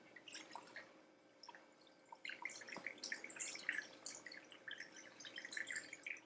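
Whiskey cocktail sweetened with honey pours from a bottle through a funnel into a barrel, giving soft, faint gurgles, drips and trickles with brief pauses, quiet and close.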